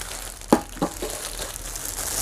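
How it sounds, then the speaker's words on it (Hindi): Polythene wrap being pulled off a Milton stainless steel casserole, two sharp crinkling rustles close up followed by softer plastic crackle. "अब यहाँ पर इसकी पॉलीथीन को रिमूव कर लेता हूँ मैं"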